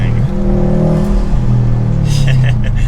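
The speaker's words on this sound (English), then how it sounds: "you get the drama with the exhaust, the intake, the pull-off noise" A modified sports car engine rumbles and revs with a throaty exhaust note and intake noise, rising in pitch, with a brief higher whoosh near the end.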